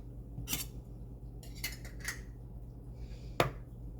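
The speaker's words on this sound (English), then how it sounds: "Have to open a new can for Vicky to get her second scoop." A new can of pet food opened and scooped in a home kitchen, a few sharp metallic clinks and scrapes spaced apart, close and clear with no talk.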